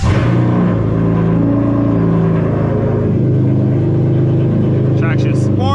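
A catless, flame-tuned V6 Dodge Charger rumbles loudly and steadily in the rain, a dense low engine drone filling the cabin throughout, with a person talking over it.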